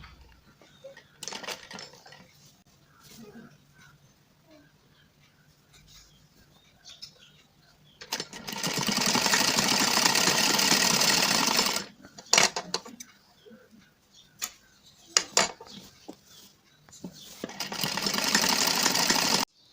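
A sewing machine stitches a salwar in two sustained whirring runs, one long and one shorter near the end, separated by quieter handling clicks and rustles.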